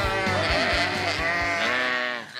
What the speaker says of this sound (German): Für ihren Käse halten Andi und Michi Schafe.